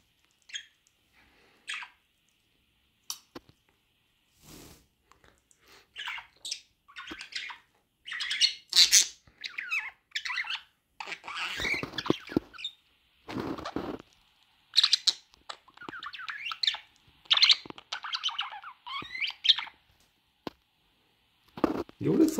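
Pet birds squawk and chirp in repeated loud bursts through much of the scene, with a person talking gently to them in between.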